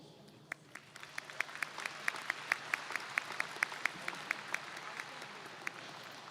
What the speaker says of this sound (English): Families, you deserve a round of applause.